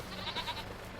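Goats bleat briefly in a livestock pen in the Farming Simulator 25 video game, a short, faint cry in a quiet scene.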